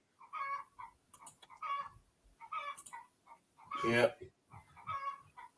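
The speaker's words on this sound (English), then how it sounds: "the chicken's in my yard shouting" Chicken in a yard clucking in short bursts, with one louder, drawn-out crowing call; a person says a word in the background.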